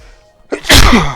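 A single sharp sneeze bursts out after a brief quiet intake of breath, close and loud.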